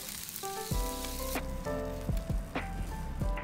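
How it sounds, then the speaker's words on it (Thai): Green onions grill and soften in a hot pan, sizzling and crackling with a few soft thuds of stirring or turning, steady and close. "ย่างหอมให้พอนิ่ม"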